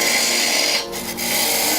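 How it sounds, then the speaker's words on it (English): Wood lathe with a parting tool cutting away excess wood, a steady close, hissing scrape that dips briefly midway and then resumes. "I'm just going to take my parting tool and remove some excess wood"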